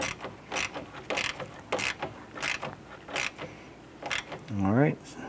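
A ratchet wrench tightens a radiator hose clamp on a 1993–1997 Ford Ranger in short, evenly spaced bursts of clicking, close and fairly quiet, with a brief voice near the end.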